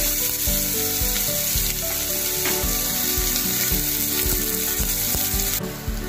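Onions sizzle and fry in a pan for a mushroom curry, a dense, steady crackling hiss with occasional stirring scrapes, close and continuous throughout.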